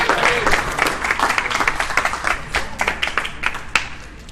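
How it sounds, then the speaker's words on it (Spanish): A classroom audience at a church scripture-interpretation class applauds together, a dense, steady burst of clapping that stays loud and close for the whole stretch. "den un aplauso al Señor"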